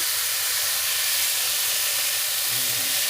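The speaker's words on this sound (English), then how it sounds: "he browns up some good lean hamburger with onions" Lean hamburger browns with onions in a pan at a campsite, giving a steady, dense sizzle and hiss. The sound is close and continuous, with no talking.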